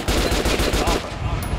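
Rapid gunfire strikes an armored target dummy in Metro Last Light, a loud, dense burst of automatic shots with a steady rhythm that trails off slightly near the end.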